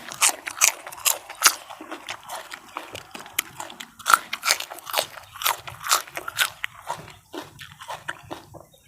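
Loud, close crunchy chewing of raw beef hip meat and fresh liver, a rapid run of crisp bites and wet squelches over about nine seconds with no talk.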